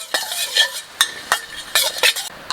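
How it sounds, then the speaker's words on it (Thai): Lemongrass dry-roasted in a pan, tossed and stirred in a rhythm of short scraping and rustling strokes, about eight close, moderately loud bursts with brief gaps between them and no talking. "ตะไคร้ก็คั่วต่อเลยนะครับ"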